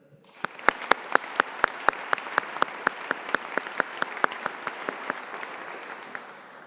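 Sharp, evenly spaced claps ring out in a steady rhythm at a university graduation ceremony, like a small group applauding, then trail off near the end.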